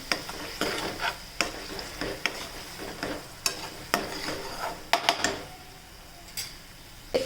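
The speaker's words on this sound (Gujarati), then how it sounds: "થોડીક નાખીશું હળદર અને સ્વાદ પ્રમાણે મીઠું, અને એકદમ મિક્સ કરી દેવું આપણે આને." Turmeric and salt being stirred into a frying gravy for tuver totha, a pigeon pea dish: soft sizzling throughout, punctuated by sharp clinks and scrapes of a spoon against the pan, with no talking.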